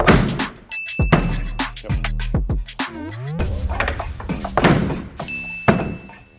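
A hammer repeatedly strikes a plywood or particle board cabinet, giving loud, hollow wooden thuds and knocks in an irregular series of hard blows, with brief ringing after some impacts.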